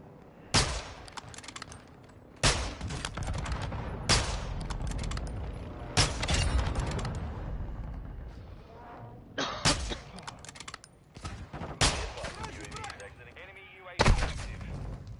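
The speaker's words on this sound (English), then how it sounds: "Friendly airstrike in the AO." Friendly airstrike explosions in a modern military shooter video game, several heavy booms spaced every couple of seconds over a steady rumbling battle bed, loud and fairly close.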